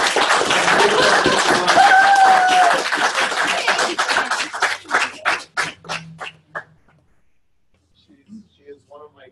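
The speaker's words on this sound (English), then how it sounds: "round of applause for our founding CEO" Audience applause for a speaker at a creativity talk, a full burst of clapping that thins into a few separate claps and fades to near silence, with faint voices and some laughter near the end.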